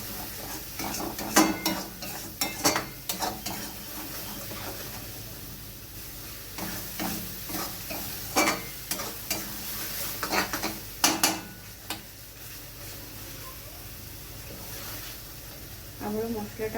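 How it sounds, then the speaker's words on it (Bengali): Spice paste for coconut prawn curry stir-fried in a pan, with repeated scraping and clinking of a utensil against the metal and a soft background sizzle; speech can be heard faintly at times. "আবারও মশলাটা ভালোভাবে কষিয়ে নিয়েছি"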